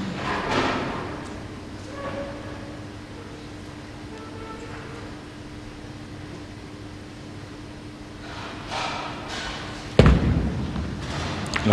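A bowling ball hits the pins with one sharp thud and clatter near the end of a competitive bowling match, after a stretch of low hall ambience.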